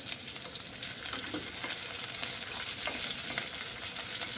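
Onion frying in a pan for a Maharashtrian Sankranti mixed-vegetable bhaji, a steady close sizzle with light stirring scrapes throughout and no talking.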